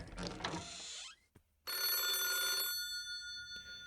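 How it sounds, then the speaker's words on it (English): A video-game telephone keeps ringing, with an opening burst, a brief gap broken by a click, then a second long metallic trill. The ringing is loud and close, alone with no voices. "The phone continued to ring off the hook."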